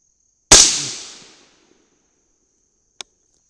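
A single sharp, loud rifle shot of a Mk 262 clone load with a Sierra bullet over AA2520 powder, cracking and decaying over a second, followed by a faint click.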